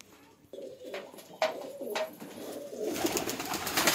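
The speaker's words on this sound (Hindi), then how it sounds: "ये रहा कबूतर" Pigeons coo in a steady, close series of soft, rounded calls, some overlapping, against a low background hum that thickens toward the end.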